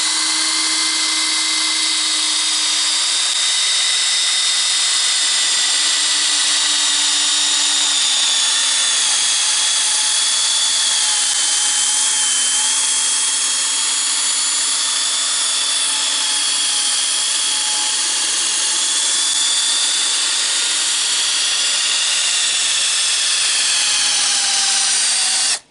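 A power drill runs continuously at medium speed while polishing a Toyota Sequoia headlight with a restore kit, giving a loud, steady whine that shifts slightly in pitch, close up with no talk.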